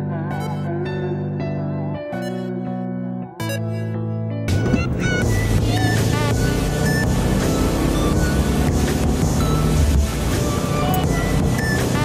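A Subaru WRX drives along a twisting mountain road; after a quiet opening with music, a steady loud roar of engine, tyre and wind noise takes over and continues throughout.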